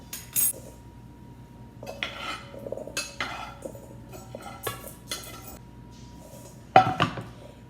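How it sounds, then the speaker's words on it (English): Cooked butternut squash is scooped out of a skillet into another bowl, with intermittent metal clinks and scrapes of a utensil against the pan and bowl separated by quiet pauses. "now I'm going to remove it from the skillet and put it in another bowl"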